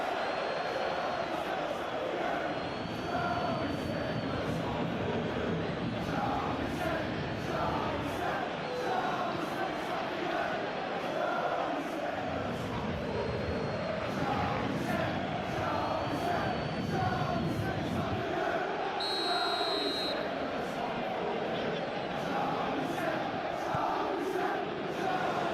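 A stadium crowd murmurs and roars steadily through a Champions League football simulation of PSG against Newcastle, with swelling waves of cheering and a commentator talking over the noise.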